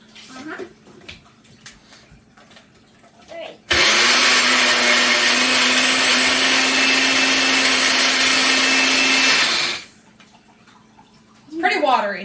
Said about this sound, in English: we're going to take our blender top. And gonna blend it.